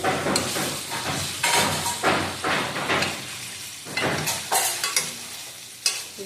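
Chicken for chicken kosha sizzles in a pan as it is stir-fried. Repeated bursts of scraping and hissing come as the pieces are turned, over a steady frying background, with no talk.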